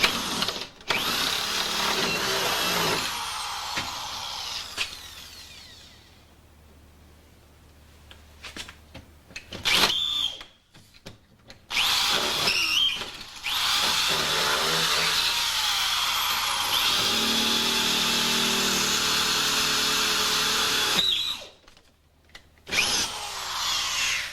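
A power drill bores into a lock at an angle toward the bolt, running in long loud grinding bursts separated by short pauses and a quieter stretch of motor whine, close up with no talking.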